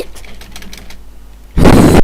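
A computer keyboard struck hard during a Minecraft modded survival session: a few faint taps, then one loud, close burst of banging on the keys near the end.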